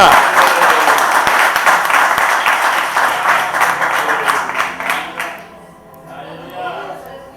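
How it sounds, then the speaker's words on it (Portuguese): A church congregation claps in praise during a service, a loud sustained wash of hands that stops abruptly after about five seconds, leaving a quieter murmur of voices. "Se tem palma para Jesus nessa noite, louve Ele com as suas palmas."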